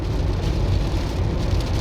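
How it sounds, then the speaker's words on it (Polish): Heavy rain pours down in a steady, dense wash with no gaps, loud and close, likely drumming on a car on a drive through Slovenia toward Croatia as a storm sets in. "I ulewa nas przywitała."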